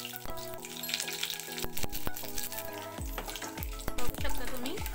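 Curry leaves crackle and sizzle in hot oil with cumin seeds over low heat, a moderate frying hiss broken by sharp pops and clicks, with steady tonal background sound underneath.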